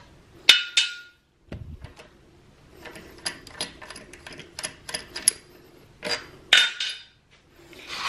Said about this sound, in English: you just release the flywheel holder here.